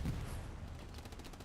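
An armor unit in a military video game fires rapid bursts, heard as faint, distant crackling gunfire peppering down over about a second and a half.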